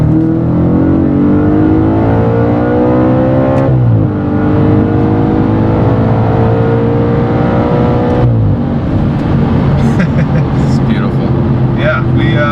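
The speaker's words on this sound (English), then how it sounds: "We can definitely reach the speed limit with ease in this car." Audi RS5 V8 in sport mode accelerating hard, heard loud from inside the cabin as the engine note climbs steadily, drops sharply at two gear shifts and then rises again. Faint interior noises come near the end.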